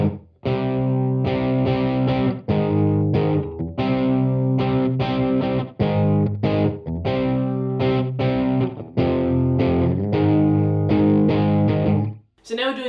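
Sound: distorted electric guitar playing a chord part

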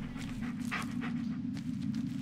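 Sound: dog panting in the video game Blair Witch

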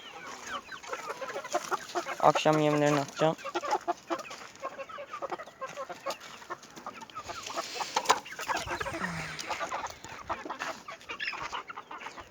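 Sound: chickens clucking

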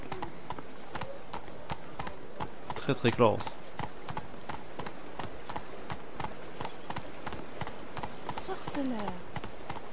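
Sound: horse hooves galloping in video game The Witcher 3

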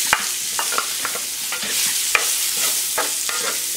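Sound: sausages frying in bacon fat

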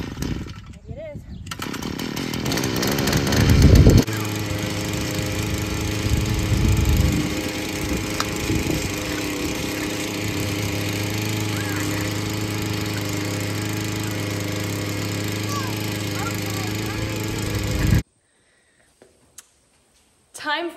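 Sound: small petrol engine running after being started

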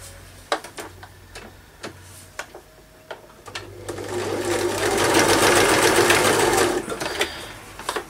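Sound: sewing machine stitching straight across a paper page

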